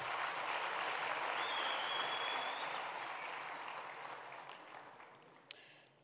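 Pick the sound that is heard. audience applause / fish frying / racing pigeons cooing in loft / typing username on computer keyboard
audience applause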